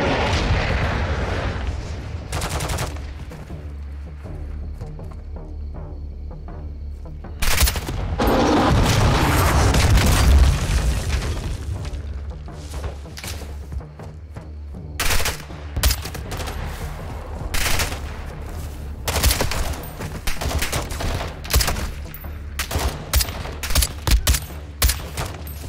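Call of Duty Modern Warfare 2 co-op gameplay brings loud, close bursts of automatic gunfire, heavy booms and rumbling explosions in irregular clusters, with sharp single shots in between.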